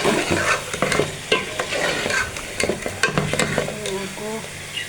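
Chicken and capsicum fry in a pan with a constant sizzle. A utensil scrapes and stirs them in repeated close strokes, and there is no talking.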